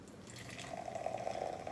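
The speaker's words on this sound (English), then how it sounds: "And I'm just going to pour some here in the cup." Dr Pepper soda poured from a freshly opened can into a cup, a soft, quiet liquid trickle and fizz that swells slightly over under two seconds.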